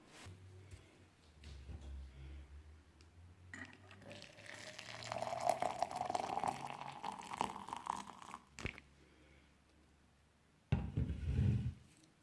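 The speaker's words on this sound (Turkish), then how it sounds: "Kaynar su dökeceğim içerisine." Boiling water is poured into a vessel of fresh poppy flowers, a steady close pour whose pitch rises as it fills, followed by brief clinks of kitchenware.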